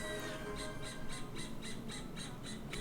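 A little owl squawks in a rapid run of about eight harsh, evenly spaced calls, fairly close and clear over faint background hum.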